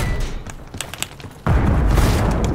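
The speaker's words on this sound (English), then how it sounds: "Throwing frag." A frag grenade detonates in Call of Duty Black Ops 6 Search and Destroy, a sudden loud boom that lands after quieter game sounds and rolls on as a sustained rumbling blast.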